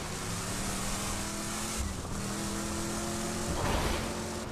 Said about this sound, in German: Wir können uns einfach ins Auto setzen.